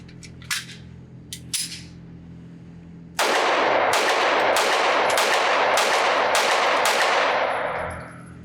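A Kel-Tec PF-9 9mm pistol fires at a range: a few scattered sharp shots, then a loud rapid string of about seven close shots in quick succession, with no talking.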